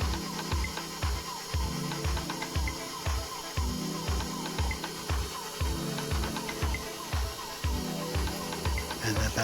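An electric mixer creams butter and powdered sugar for Mexican wedding cakes, its beaters thumping in a steady, rapid rhythm against the bowl with a continuous motor whir throughout.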